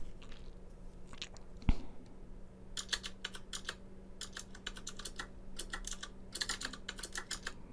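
Keyboard typing sounds from an ASMR phone app: bursts of crisp, close key clicks in quick irregular runs over a faint steady hum, with a single louder tap near the start.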